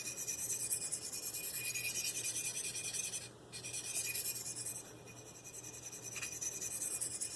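Marttiini Lynx knife blade drawn across a sharpening stone, close bright raspy strokes in a steady run with brief pauses between passes.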